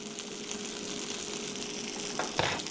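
Breakfast food browns in a pan on the stove with a steady close-up sizzle, and a couple of scraping stirs near the end, with no talking.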